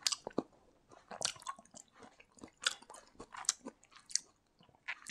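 Someone eating chicken rice topped with cream stew, close and intimate chewing with wet crunchy bites and small squishes in an irregular rhythm, no voices.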